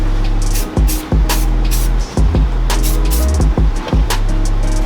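Spray paint hisses in repeated short bursts while painting the tail of a cheap bluebill duck decoy, each burst loud and close over a steady low hum.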